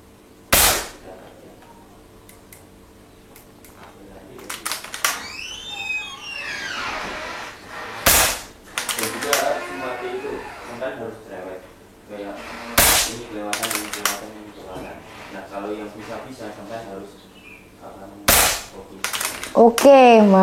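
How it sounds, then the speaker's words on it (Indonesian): FX Impact M4 air rifle firing at metal silhouette targets, sharp loud shots spaced several seconds apart with metallic rings and clanks after some, and people talking between shots. "Kita akan lihat untuk next di seru-seruan nembak metal siluetnya nih."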